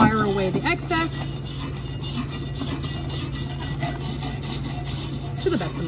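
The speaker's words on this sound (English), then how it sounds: "I will now grab my wire brush, wire away the excess" Wire brush scrubbing slag off a 7018 stick weld in an agricultural mechanics shop, a continuous rhythmic scraping with repeated back-and-forth strokes, close and fairly loud, with steady shop hum underneath.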